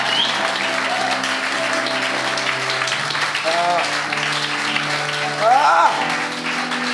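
A church congregation applauds and cheers steadily throughout, a dense wash of clapping and voices that swells slightly near the end, with some whoops rising above the crowd.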